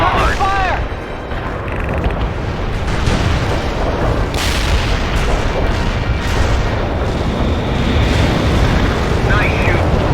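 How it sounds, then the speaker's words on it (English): Heavy mortar and artillery fire in the war video game World in Conflict, with continuous loud booming and rumbling blasts, radio-style voices talking over the din. "Zulu 9 are firing mortars."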